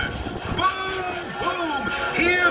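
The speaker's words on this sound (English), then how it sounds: "When the trolley train goes rolling past" A theme park trolley train rolls past at Universal with a loud rumbling clatter, swooping metallic squeals and tonal whines that rise and fall, close by and continuous.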